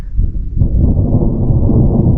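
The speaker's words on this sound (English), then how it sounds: "And we get some thunderstorms on top of us again." Thunder from a storm directly overhead along a backcountry hiking route through a burned forest, a deep, loud rolling rumble that swells and sustains without a break.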